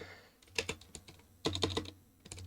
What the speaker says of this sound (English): If I can actually type.